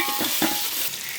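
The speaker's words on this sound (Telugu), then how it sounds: "ఇదిగోండి 4 టమాటాలు మీడియం సైజ్ పీసెస్గా కట్ చేసుకొని వేసుకుంటున్నాను" Four medium-cut tomato pieces hit hot oil with ginger garlic paste, a brief bright sizzle with a couple of stirring scrapes, close and unbroken.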